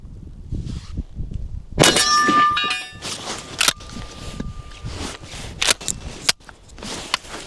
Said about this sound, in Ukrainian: Зараз буду виконувати стрільбу кулею з рушниці 12-го калібру.